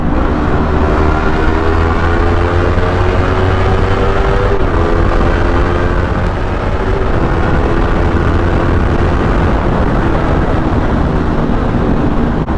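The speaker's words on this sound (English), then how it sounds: "we're gonna do a downshift" Inside a tunnel, a Yamaha R3 motorcycle engine drones loud and close, its pitch climbing and shifting as the rider downshifts, with a steady rumble echoing throughout.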